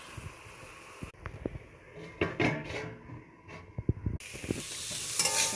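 Radish greens frying in a pan with a dried red chilli tempering, salt and turmeric, releasing plenty of water; soft sizzling is broken by scrapes and knocks of stirring, then a hiss that swells louder near the end.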